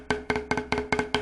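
Snare drum rolled in double bounces with a tight fulcrum, six evenly spaced sharp clusters of strokes, close and fairly crisp with choked, short rebounds, alone without talk.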